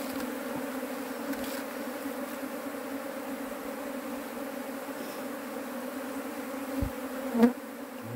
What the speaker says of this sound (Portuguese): Muita abelha.